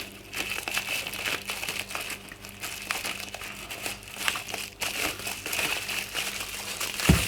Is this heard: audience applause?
no